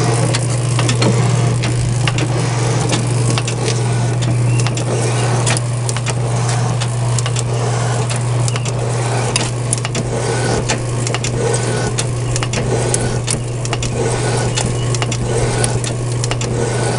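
A Logan metal shaper takes about 4.5 thousandths per cycle off a workpiece held well out from the vise, giving a steady close mechanical run with a constant low motor hum and repeated light clicks and scrapes of the cutting strokes, with no talk.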